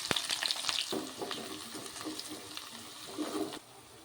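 Mustard seeds, cumin and chopped onions frying in hot oil for a Telugu village-style brinjal curry, a steady close sizzle with crackles and stirring scrapes that fade out near the end.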